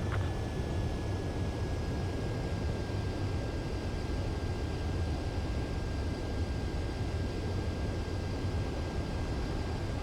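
A jet aircraft on final approach to a runway in the video game Ace Combat 7, a continuous loud roar of engine and wind noise with a thin steady whine, no pauses.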